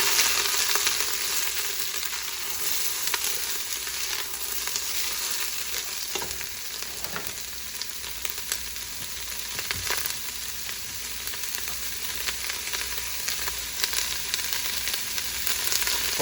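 A shrimp boil being stirred in a pot gives a steady bubbling sizzle with soft scraping and knocks throughout, close and constant, with no one talking.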